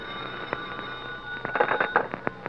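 A telephone rings in a few short electronic bursts in a 1947 radio drama, fairly close and moderately loud, with no talking.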